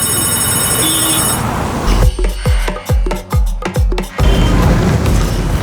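A telephone rings with a bright repeating electronic tone, then a run of deep booming thuds pounds out in quick succession before a louder rumble returns.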